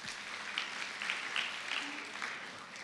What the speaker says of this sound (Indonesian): Beri tepuk tangan buat Allah kita